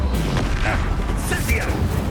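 Expulso explosion spell cast in the Hogwarts Legacy video game: a loud, booming magical blast with rumbling low-end, set against ongoing battle noise and voices.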